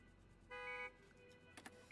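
A car horn honks in Gas Station Simulator, a steady tonal blast of about a third of a second that stands out clearly over faint background game noise, with no one talking.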